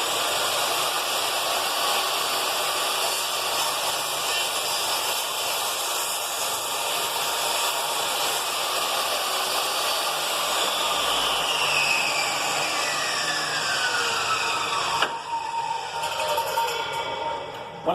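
A table saw runs and cuts through wood, giving a loud, steady, hissing whine that holds for many seconds before the cut ends and the sound briefly shifts and thins.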